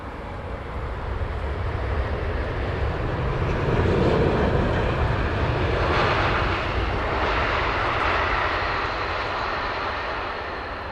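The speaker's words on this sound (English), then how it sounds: "This is an A350 inbound. Singapore 350." An Airbus A350 from Singapore arriving at London Heathrow in the evening, a steady loud jet roar that swells and slowly fades as it passes, with no talking.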